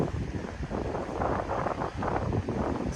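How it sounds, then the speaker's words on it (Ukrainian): Strong wind buffets the microphone in a continuous roaring rush on the Dnieper River during fishing, gusting louder and softer throughout with no speech. "Сильний вітер"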